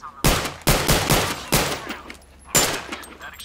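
Gunfire in the VR shooter game Zero Caliber VR: several loud, sharp shots in quick succession with a short gap, then one more sharp report, each ringing out briefly, close to the listener.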